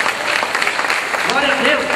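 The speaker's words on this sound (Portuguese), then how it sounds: "Aplauda Ele por essa palavra." A church congregation claps after a sermon line, a brief burst of applause with a voice speaking over it.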